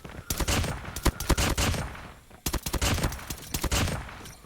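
M1 Garand rifle fire in the mobile shooter Call of Duty Mobile: rapid, loud semi-automatic shots come in two dense clusters separated by a brief pause, with a faint voice underneath.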